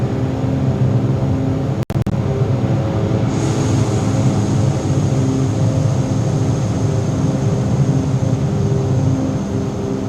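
Engines of a Cessna C310R twin at full power in MSFS 2024, a loud, steady droning roar that holds evenly throughout, with one brief click early on.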